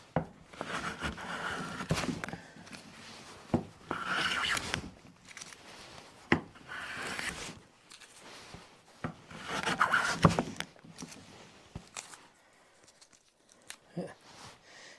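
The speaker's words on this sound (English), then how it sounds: "that's the technique that I prefer to use when planing" A steel hand plane is pushed over a wooden board in several separate rasping strokes, each a brief scraping swish with quiet gaps between, heard fairly close and moderately soft.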